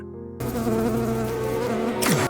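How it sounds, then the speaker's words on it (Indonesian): A housefly buzzes steadily and loudly up close beside an old man in the Sakamoto Days anime, a droning whine that swells and then dips away at the end, with no talking. "ada seekor lalat terus berterbangan di samping kakek Takamura"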